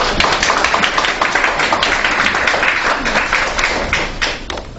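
A large forum audience claps loudly and steadily at the opening of a youth panel event, a continuous close wash of many hands.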